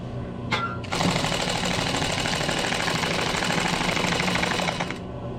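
A sewing machine runs steadily for several seconds, stitching windlace material folded around a foam core for a classic Chevy, starting after a brief click and stopping cleanly near the end; loud, close and continuous with no talk.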